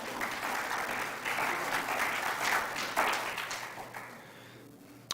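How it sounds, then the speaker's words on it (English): A congregation applauds a rabbi at a Friday evening live-streamed service, steady clapping from a room of people that holds for several seconds then thins and fades out. "Let's give him a round of applause"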